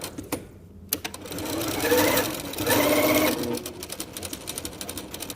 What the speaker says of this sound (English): we're going to stitch this together